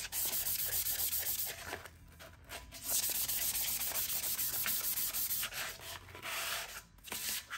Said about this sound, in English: We're going to do a light sanding.